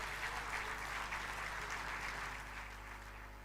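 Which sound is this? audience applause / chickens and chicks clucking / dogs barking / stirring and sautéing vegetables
audience applause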